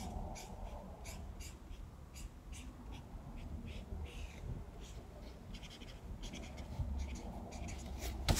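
A pen or pencil scratches quietly across paper while a keyboard diagram is drawn by hand, with short strokes repeating in an irregular rhythm over soft room noise.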